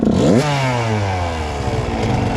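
A freshly rebuilt 1996 Suzuki RM 125 two-stroke dirt bike fires on the kick and revs up loudly close by, its buzzing pitch falling back as it settles toward idle.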